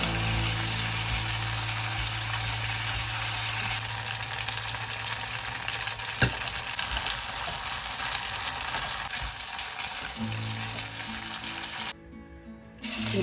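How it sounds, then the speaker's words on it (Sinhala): Squid pieces frying in oil until golden for Sri Lankan dallo dewal, a steady dense sizzle close up that runs continuously, briefly cut near the end before resuming, with a faint low hum beneath. "ඊට පස්සේ මම මේ දැල්ලෝ ටික රන්වන් පාටයට හොඳින් බැද ගන්නවා"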